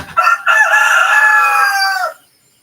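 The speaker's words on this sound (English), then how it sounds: "Bloody cockerel's awake." A rooster crows once in the morning on a rural Philippine homestead, a loud, close, drawn-out cock-a-doodle-doo lasting about two seconds before fading to silence.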